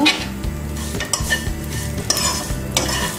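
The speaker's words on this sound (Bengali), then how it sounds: "এভাবে এক দুই মিনিটের মতো সেমাইটাকে ভেজে নিলেই হবে" Vermicelli (semai) fries in ghee with cardamom and cinnamon, a steady sizzle under repeated scraping and clinking stirs of a spoon against the pan, close and rhythmic, with no voices.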